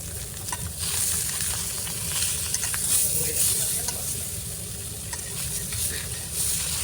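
A large fish head frying slowly in oil, a steady dense crackling sizzle with a low rumbling bubble underneath, close and continuous with no voices.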